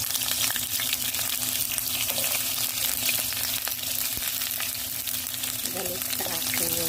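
Onions sauté in hot oil in a pan with a continuous crackling sizzle, scattered pops of splattering oil and occasional stirring, quiet and close with no speech.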